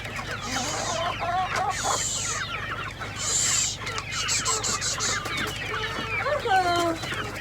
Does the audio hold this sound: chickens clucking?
yes